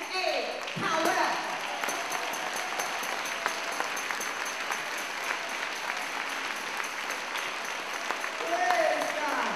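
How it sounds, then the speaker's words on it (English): A congregation applauds at a church appreciation service honoring a longtime member, sustained clapping with a few louder bursts near the start and end, and some voices mixed into the crowd. "give a wonderful round of applause"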